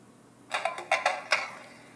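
A TomTom ONE XL satnav fitted with a new battery powers on with a short, clear startup chime of about five quick bright tones close to the microphone. Faint room hiss fills the quiet before and after.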